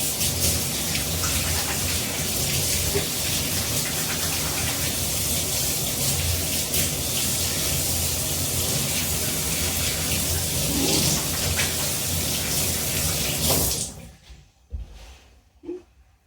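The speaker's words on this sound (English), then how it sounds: "Wash my hands" Hands being washed under a running kitchen tap, a steady loud gush of water that goes on without a break and then stops abruptly, leaving a few faint clatters.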